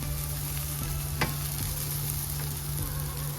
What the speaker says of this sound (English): Even if you're using the fresh ones, go ahead and saute them up for about 4 minutes.